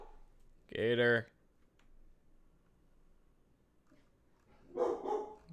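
A puppy gives one loud, close bark, then quieter yips follow a few seconds later in an otherwise quiet room during a live coding stream.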